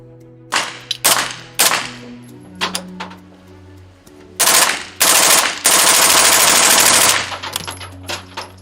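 Suppressed roller-delayed firearm firing subsonic rounds, several single shots followed by rapid bursts, loud and close with no talk.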